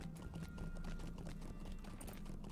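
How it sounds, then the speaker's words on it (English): Horse hooves clip-clopping in the game Lord of the Rings Online as mounts run through dwarven halls, a rapid steady patter of hoofbeats at moderate distance, fairly quiet and continuous. "the dwarves just allow us to run through the halls on horses"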